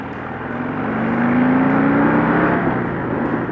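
A Harley-Davidson Softail Heritage with a 114 engine hums steadily while being ridden, its pitch rising gradually as it accelerates, loud and continuous with no talking.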